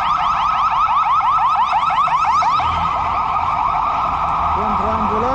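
Emergency vehicle siren wailing in a city street in Lisbon during a cycling ride, a loud, rapidly cycling yelp-type tone that slows into a longer wail partway through, continuous and close.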